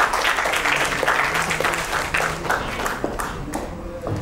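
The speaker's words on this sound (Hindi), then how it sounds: "प्रिया सिंह के लिए जोरदार तालियां" An audience at a women's celebrity cricket event claps loudly for a guest, a bright burst of hand claps that thins and fades toward the end.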